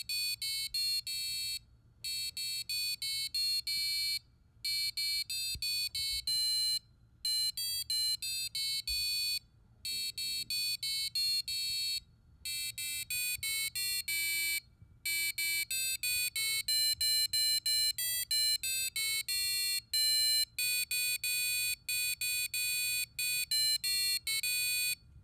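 A passive buzzer driven by an ESP8266 plays Jingle Bells in thin, piercing square-wave beeps, the melody phrased in short bursts with brief silent gaps, steady and fairly loud over a faint low hum.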